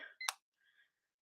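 A kitchen timer being reset gives a couple of short electronic beeps and clicks, quiet and close, followed by a fainter trailing tone and then silence.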